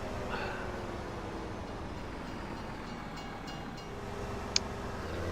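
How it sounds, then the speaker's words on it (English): A train rolls past in Farming Simulator 17 in a snowy spring setting, a steady low rumble that stays even throughout, with a brief high click near the end. "Oh, train's coming."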